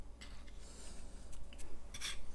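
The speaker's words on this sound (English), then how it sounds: "We're also going to add 2 teaspoons of some fresh ground black pepper" A pepper grinder cracks fresh black pepper over a stuffed artichoke filling, giving short quiet rasping bursts with one louder grinding burst near the end, and no talk.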